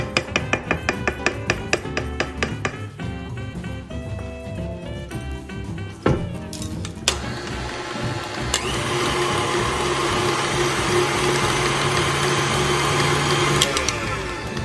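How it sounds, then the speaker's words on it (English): An electric mixer beats banana bread batter with a steady, loud whir that starts in short choppy bursts and then settles into one continuous run. "Then we can mix it again."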